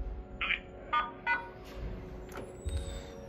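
Dialing tones from the emergency phone in a 2002 Schindler 330A elevator, three short beeps in a quick row followed by fainter tones over a low hum, fairly close.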